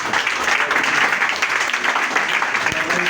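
A congregation at an evangelical prayer service applauds and cheers, a dense, steady wash of clapping and voices that stays loud and close for the whole stretch.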